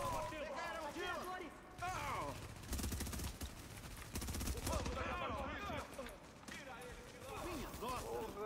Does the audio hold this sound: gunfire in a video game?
yes